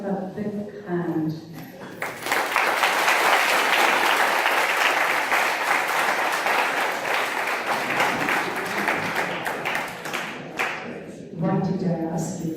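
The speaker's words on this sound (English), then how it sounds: "give yourself a big hand" Sustained audience applause fills a conference hall at MITSDBED in Pune for about eight seconds after a guided meditation session. Talk is heard briefly before and after the loud, steady clapping.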